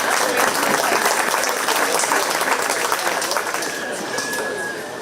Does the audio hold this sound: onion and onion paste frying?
no